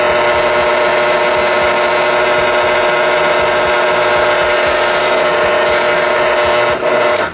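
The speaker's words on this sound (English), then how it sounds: "now we're going to do our Forstner bit holes" Power drill boring a one-inch hole into wood with a Forstner bit, a loud continuous whining grind held steady for several seconds before winding down near the end.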